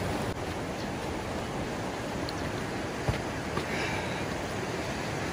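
Creek water flows steadily at Spearfish Canyon, a broad constant rushing wash, moderately near, with a couple of faint bumps and no talking.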